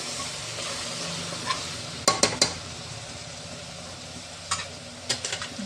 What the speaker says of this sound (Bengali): একটু করে ঢাকা দিয়ে দিয়ে জাস্ট কষিয়ে নিচ্ছি।